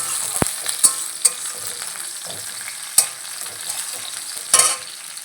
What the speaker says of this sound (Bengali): পেঁয়াজ কুচি দিল, ভালো করে ফ্রাই করছে।